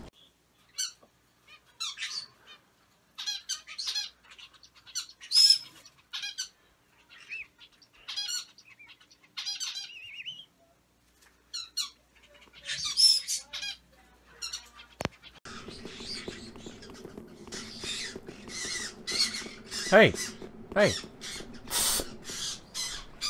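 Squawking crow-like bird calls in Dark Souls 3, sharp chirps and caws repeating through the first half under a player's excited shouting, then a denser flurry of bird noise with flapping over a low background rumble.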